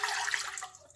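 Water poured into a pan of semolina for dough, a brief steady splashing stream that fades out within a second.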